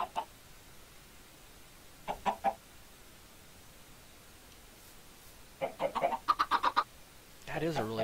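Minecraft chickens cluck in short, clipped bursts, a few quick calls near the start, another pair a couple of seconds later, then a livelier run of clucks before a rougher sound at the end, over a quiet background.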